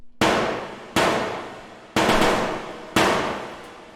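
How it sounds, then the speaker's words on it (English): High metal sheet percussion hits from an acoustic trailer percussion sample library: four loud, evenly spaced clanging strikes about a second apart, each ringing and decaying before the next. "this is where the metal sheets really come in handy"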